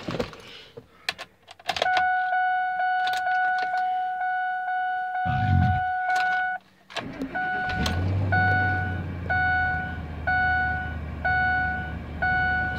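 A 2004 Lincoln Navigator starts cold on a snowy morning: clicks and door chimes repeat in a steady beeping pattern, then the engine cranks and catches into a low idle rumble under the continuing chimes.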